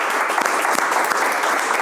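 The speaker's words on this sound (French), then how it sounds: "On peut l'applaudir" An audience claps in dense, continuous applause at a live comedy show, loud and sustained for the whole moment without a break.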